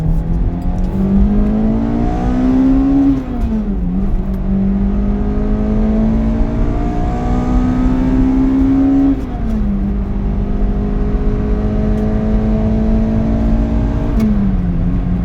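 A Toyota Matrix XRS with a 2ZZ engine revs hard toward 8,000 RPM at speed, its rising engine note swelling through the lift crossover, dropping at each shift and climbing again, loud and steady for the whole stretch with no talk.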